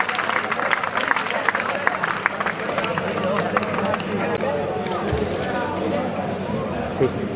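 Crowd applause at a student results ceremony, dense steady clapping running throughout with a murmur of voices underneath.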